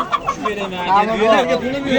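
Muscovy duck at a busy poultry market, its raspy calls mixed with clucking fowl nearby and people talking over the din, loud and close throughout.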